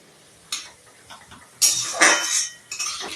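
Raw vegetable momo filling being stirred with vinegar and salt in a metal bowl, a few bright scraping clinks and clatters of a spoon, close and intermittent, with no talking.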